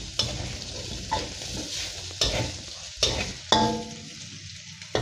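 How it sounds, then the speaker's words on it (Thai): Pork belly stir-fried with red curry paste in a pan, a steady sizzle broken by several sharp scraping stirs of the spatula, close and loud with no talking. "ใส่หมูของเราที่เราลวนไว้เลยครับ ผัดให้เครื่องเข้ากันแป๊บหนึ่งนะครับ"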